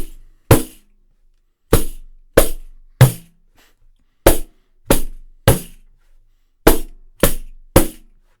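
Pandeiro slaps struck in groups of three, eleven sharp hand hits in all, each a crisp bright crack with a short ring and clear silence between groups.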